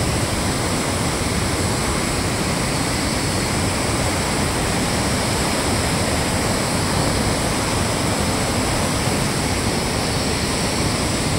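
Water rushes far below in a jungle-covered valley, heard from a high viewpoint in the Dooars hills around Kolakham and Lava as a steady, broad roar with no pauses and no voices.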